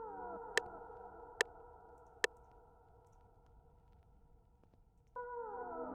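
A sustained chopped music sample rings out with echo and reverb, three sharp clicks early on, and a fresh chord entering near the end.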